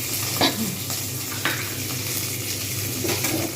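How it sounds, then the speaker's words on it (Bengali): Whole curry leaves sizzle in hot oil in a pan while a spoon stirs them, giving a steady frying hiss with a few scraping stirs. "কারি পাতা গোটা দিয়ে দিলাম এবং নাড়তে থাকবো"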